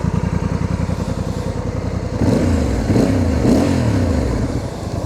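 Close by, a 2025 Honda Africa Twin DCT motorcycle engine runs at a steady, rhythmic idle, then swells in a few throttle blips before settling again, loud and without speech.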